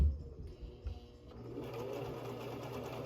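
Sewing machine backstitching a curtain seam, running in reverse and then forward again to lock the stitches, a close, steady mechanical whir that starts in bursts and settles into a continuous hum.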